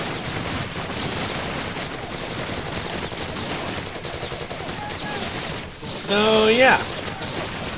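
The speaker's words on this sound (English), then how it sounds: "let's get these freeze rockets out to take care of these guys" Freeze rockets firing in the video game Infamous 2, a steady barrage of rapid bursts and blasts throughout with a brief tonal whine near the end, under someone talking.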